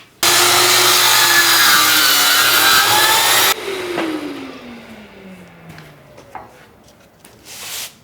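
Power saw cutting through American walnut for a dining table build, a loud steady roaring cut for about three seconds that stops abruptly, followed by a fading motor wind-down and quiet shop sounds.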